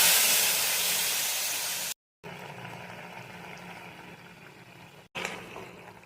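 Water poured into a hot pan of paneer and potato curry bursts into a loud, bright hiss of steam that slowly fades, followed by a softer simmering bubble with a brief renewed hiss near the end.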